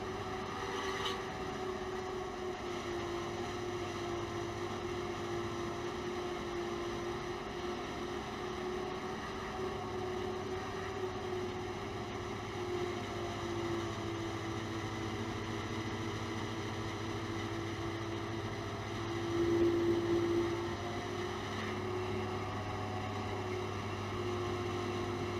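Idling engine-driven machine hunting, its speed slowly rising and falling, giving a steady droning hum with faint swells and a brief surge near the end, heard continuously and fairly close with no voices.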